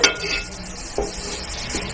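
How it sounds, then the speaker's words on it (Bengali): A green peas lachha paratha fries in oil in a pan with a steady close sizzle, broken by a few soft clinks and stirs, and no talking. "এপিট ওপিট করে আমি ভেজে নেব"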